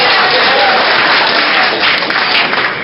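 An audience at a question-and-answer panel for a video game show claps continuously for about three seconds, a loud and dense burst of hand-clapping with no voices audible.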